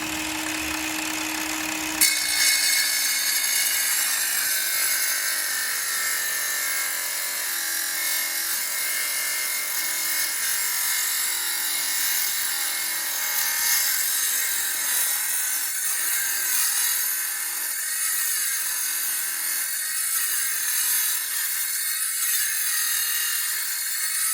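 Power saw, a reciprocating sawzall, cutting wood to build a lighted Christmas arch, running as a continuous loud buzzing drone with slight rhythmic variation, close by and alone throughout.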